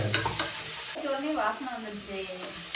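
Cinnamon and cloves fry in hot oil for a biryani, with a close, steady sizzle and the scrape of stirring running through it.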